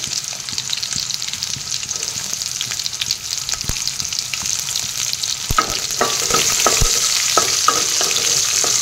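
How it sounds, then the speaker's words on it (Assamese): Onions sizzle steadily in hot oil, a continuous hiss broken by occasional clicks and scrapes of stirring that grow slightly louder toward the end. "পিঁয়াজখিনি এনেদৰে ভাজি লওঁ"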